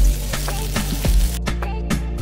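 Onion dropped into hot oil in a kadhai sizzles and crackles steadily, with a few sharp pops and stirring scrapes close up.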